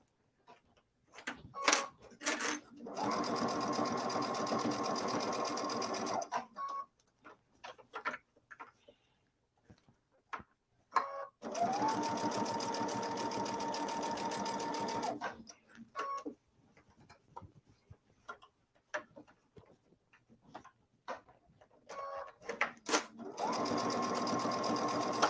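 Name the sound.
sewing machine stitching quilt lining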